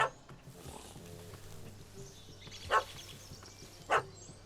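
A dog in The Witcher 3 barks twice, two short, sharp, separate barks a little over a second apart, moderately loud against a low ambient game background.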